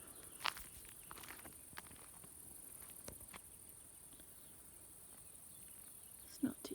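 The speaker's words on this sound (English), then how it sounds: "Hear the crickets?" Crickets chirp faintly and steadily outdoors at sunset in a quiet, open setting, with a few soft footsteps and rustles close by.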